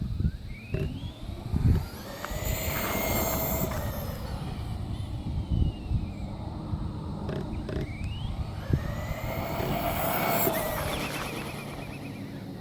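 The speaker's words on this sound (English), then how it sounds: "let's see if we can get a speed run before any cars come." An ECX Ruckus RC truck with a brushless motor makes a speed run on a road, its whine rising as it passes close and fading into the distance, then swelling again on a second pass, with rattles and knocks.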